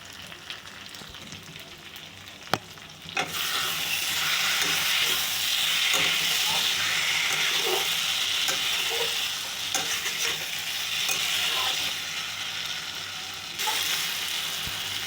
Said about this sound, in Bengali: গরম মশলা দিয়ে ভালো করে একটু কষিয়ে নেব